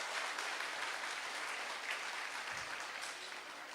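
Audience applause at a Brahma Kumaris happiness talk in Vasundhara, Ghaziabad, a steady broadband wash of many hands clapping together, sustained and even throughout.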